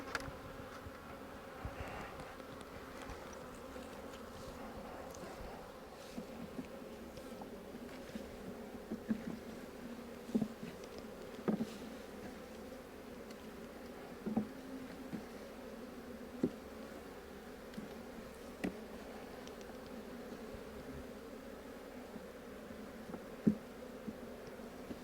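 Honey bees swarm and drone around an open hive, spread through three boxes during a split, forming a steady low buzz with occasional louder passes near the ear and no talking.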